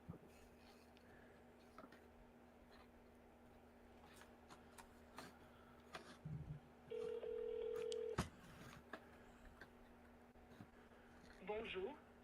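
A 1-800 number is dialed on a speakerphone, with a few short dial tones and a sustained tone near the middle, faint clicks around them and quiet talk in the room.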